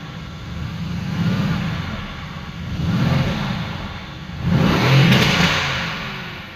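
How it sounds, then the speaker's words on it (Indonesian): Mercedes-AMG GTS with its warm V8 engine revved in three rising swells, each climbing to a louder peak and falling back to idle, close and alone with no talk. "karena kebetulan mesin ini sudah hangat, yuk sekarang kita coba rev sedikit ya"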